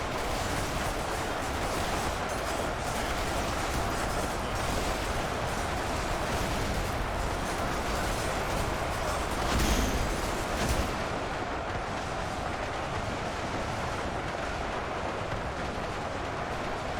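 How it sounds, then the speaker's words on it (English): A continuous, dense wash of explosions and gunfire from a Warhammer versus Star Wars battle simulator video game, steady and roaring throughout with a slightly louder blast near the middle. "There's lots of explosions going on up here."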